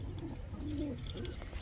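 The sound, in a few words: pigeons cooing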